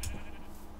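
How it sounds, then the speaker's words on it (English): A sheep bleats once in the Minecraft video game, a short, close, fairly quiet wavering cry. "Guys, look at all these sheep"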